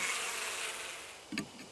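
A bee buzzing in the video game Death Mark, a soft continuous insect drone with a brief louder flutter near the end.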